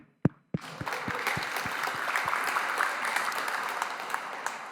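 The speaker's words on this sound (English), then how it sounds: "let's applaud him" A conference audience at a PyData talk breaks into applause, starting with a few loud separate claps that quickly swell into steady, dense clapping from many hands.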